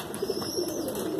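Pigeon cooing from a high flyer breed, soft low coos repeating close by in a quiet loft, with a faint higher chirp above.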